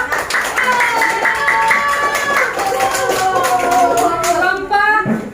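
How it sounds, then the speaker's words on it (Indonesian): Classroom group clapping at an elementary school in Indonesia, a steady patter of hand claps running throughout, mixed with children's voices and singing-like tones over the top. "Tepuk tangan dulu buat kelompok."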